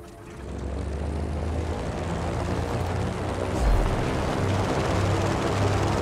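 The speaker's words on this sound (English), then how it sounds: "Oh, that was a red plane. It means it flies faster." A propeller plane in the Just Cause video game drones steadily throughout, a loud, continuous engine hum that swells slightly partway through and holds close and alone.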